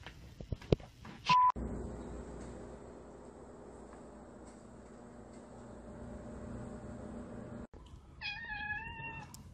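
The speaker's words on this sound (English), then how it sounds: "Oh, is that a kitty?" A cat meows near the end in a few clear, rising-and-falling calls, following a long steady hum of background noise and a brief electronic beep early on.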